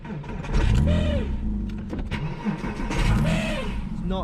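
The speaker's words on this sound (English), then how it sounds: "It does it the loudest on the first start of the day, and I'm fairly sure that's because of a faulty starter motor." A Porsche Cayman 987 with a faulty starter motor cranks and fires twice, each start bringing a rising whir and engine roar up close before settling, with a voice speaking in between.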